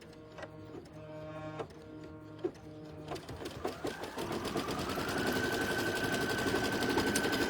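A sewing machine tacks batting down onto a mystery wall-flower quilt block, beginning with slow, separate needle clicks that speed up into a continuous, rising machine hum.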